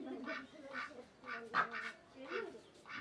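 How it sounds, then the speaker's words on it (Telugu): Repeated gobbling or honking calls from a farm turkey, about six bursts in three seconds at moderate distance, fairly faint with a quiet background. "అది టర్కీ కదా?"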